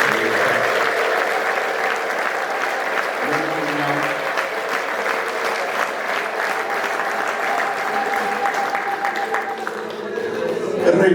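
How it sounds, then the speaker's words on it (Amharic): A church congregation at Geja Kale Heywet Church claps during a Sunday sermon, sustained and loud for about eleven seconds, with a faint voice underneath and a swell near the end. "እስኪ ጭብጨባ።"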